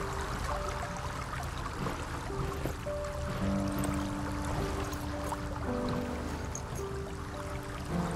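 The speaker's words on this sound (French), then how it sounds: "Ah, il pleut." Steady rain falling in the video game Jivana, a constant wash of water noise running throughout. Sustained musical tones from the game soundtrack play over it, with no voices.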